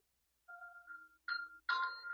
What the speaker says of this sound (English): if the phone is near you or in your vicinity, the phone will ring